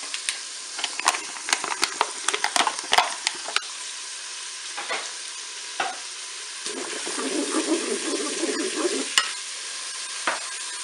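Bacon lardons and onion pieces sizzle in butter in a Cookeo pot, with a steady hiss under frequent scraping and stirring clicks of a utensil, close up and with no talking.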